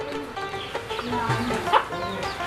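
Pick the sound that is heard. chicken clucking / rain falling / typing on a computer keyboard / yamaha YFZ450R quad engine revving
chicken clucking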